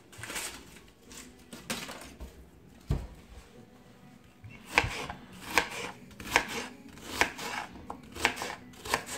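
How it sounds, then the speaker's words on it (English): Onion being chopped with a knife on a cutting board, a few scattered cuts at first, then a regular run of crisp, close knocks about two per second. "Now what I want to do now is I want to cut up my onion."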